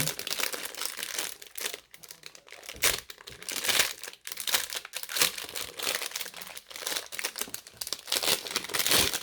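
Plastic and cellophane packaging on a 1.50 € item from an Action discount-store haul crinkles and crackles continuously nearby, with bursts of tearing and crunching and no talking.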